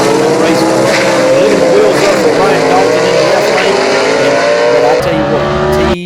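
A vintage gasser drag race car launches at London Dragway in Kentucky, a loud sustained engine roar that rises in pitch and fills the whole stretch, with commentary mixed in underneath.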